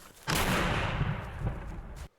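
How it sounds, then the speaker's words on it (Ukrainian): A single heavy, booming blast with a long rumbling tail from an 82 mm mortar firing nearby, then abrupt quiet. "міномет 82-го калібру"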